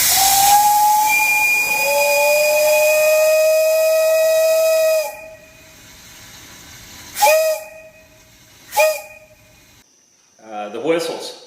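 Steam whistles at the Soule Steam Feed Works blow a long, loud, piercing multi-tone chord, then give a few short sharp toots separated by gaps, with a hissing burst at the end.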